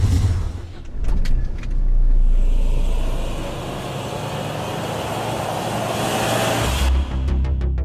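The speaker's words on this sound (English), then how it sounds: "why don't you stand in the center of the donut and I'll go around you" A car circles on an off-road track in Ladakh, doing donuts with a steady engine drone and tyre rumble. The sound swells and eases over several seconds and carries on without talk.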